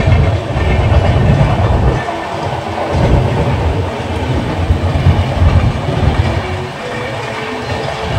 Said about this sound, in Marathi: कोकणातनं चालले ट्रेन पनवेलकडे